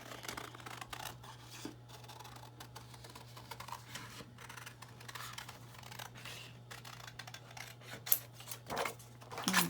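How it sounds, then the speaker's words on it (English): Quick, irregular snips of scissors cutting paper, close up, with light rustling and handling noises between cuts and no talking. "I'm going to do some quick fussy cutting with some different scissors"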